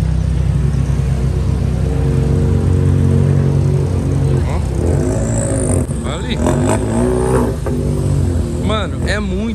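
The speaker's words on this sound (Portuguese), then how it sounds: "Mano, é muito carro." Several cars rev and rumble at a busy car meet, engines droning loudly and continuously with rising and falling revs, while people talk nearby.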